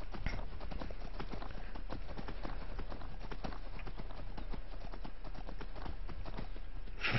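Horse hooves clip-clop at a quick running pace in the video game Skyrim, a rapid rhythmic patter of close steady beats throughout.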